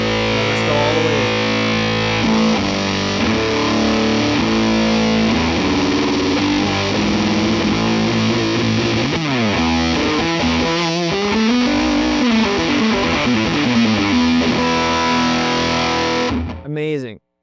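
A loud electric guitar plays sustained chords and bending lead lines through an Electro-Harmonix Big Muff Russian fuzz pedal, thick distortion, then cuts off abruptly at the end.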